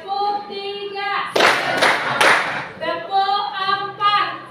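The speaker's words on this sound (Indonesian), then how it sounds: "Tepuk 1. Tepuk 2, tepuk 3," A group claps in a short rhythmic burst of several quick, loud claps in the middle, with a voice speaking before and after.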